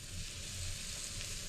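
A tortilla sizzles on a hot pan with a steady, soft frying hiss that continues without pause, no voices over it.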